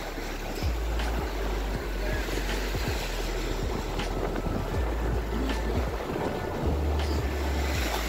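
Sea waves washing and surging along a shore, a continuous broadband roar with wind buffeting the microphone and low rumbling gusts throughout, no talk.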